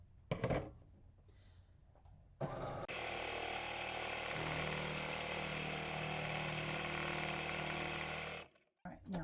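A sewing machine stitches a buttonhole in fabric, a loud continuous mechanical whirring and clatter lasting several seconds after a few short bursts, stopping abruptly near the end.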